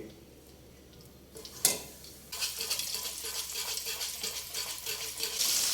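Chicken deep frying in hot oil for a crispy zinger shawarma, a quiet start broken by a sharp clatter, then a steady loud crackling sizzle that continues to the end with faint utensil sounds.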